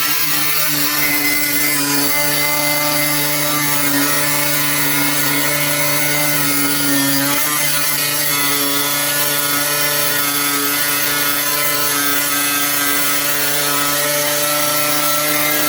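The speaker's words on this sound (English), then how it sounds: "So I'm going back to this electric grinder, and I've got a new Core 18-volt Bosch battery that I've used on it." An 18-volt Bosch cordless electric grinder cuts through steel trailer frame in one loud, continuous whine with a steady high-pitched grinding tone, briefly dipping midway.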